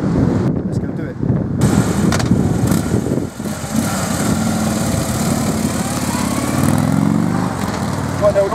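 A 1973 motorcycle is ridden, its engine droning loud and steady with rough, wind-buffeted rumble throughout.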